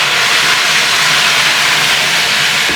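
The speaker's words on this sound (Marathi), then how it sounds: "हा वाटण आहे ना 5 मिनिटं तेलात भाजायचं आहे" Ground masala paste fries in hot oil for an eggplant masala, giving a loud, steady sizzling hiss that runs unbroken throughout with no speech.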